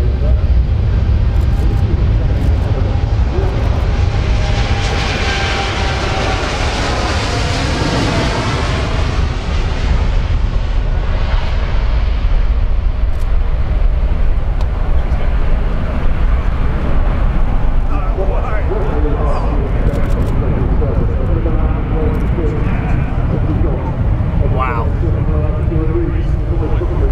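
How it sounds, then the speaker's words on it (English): A Boeing 787-8 Dreamliner makes a high-performance takeoff at the Farnborough Airshow, its loud jet roar swelling and sweeping past, then slowly fading, with people talking over it. "high performance takeoff, Dreamliner 787-8, unbelievable."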